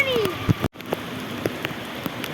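Steady rain falls outdoors on a few people getting soaked, a soft continuous patter with a short vocal sound near the start and a brief dropout midway.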